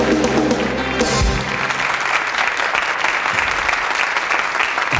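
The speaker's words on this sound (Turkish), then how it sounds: "Herkes alkışlar." A studio audience on a 1997 Turkish television talk show claps loudly in a dense, sustained burst. The applause stays strong and continuous after a brief musical sting at the start.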